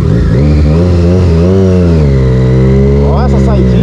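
A motorcycle engine rides along a wet road at night, a loud steady drone with slight rise and fall in revs, heard close with continuous wind rumble.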